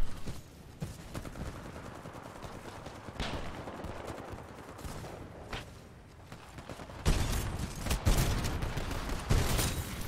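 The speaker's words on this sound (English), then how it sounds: "I've gotten more kills just shooting in the general direction of people than I have aiming." Automatic weapons fire in Titanfall 2 during a gun game match: rapid bursts of shots, some distant and some close, loudest near the end and mixed with game noise, with no talk.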